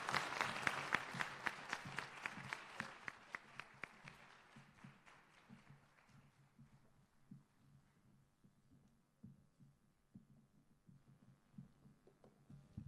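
An audience applauds after a speech at a UNDP country programme launch: dense clapping that thins out over several seconds into a few scattered claps and quiet room ambience.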